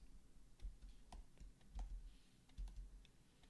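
Soft clicks and taps of a new computer keyboard are heard as shortcut keys are pressed during 3D character sculpting, scattered keystrokes at an irregular pace, close and quiet, with no speech.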